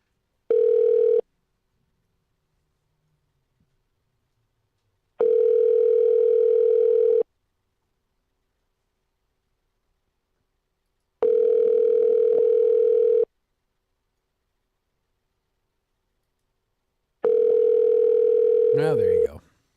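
Telephone ringback tone while calling someone: a steady hum-like tone rings out four times in two-second bursts with long silent gaps between them, then ends in a brief scrambled noise.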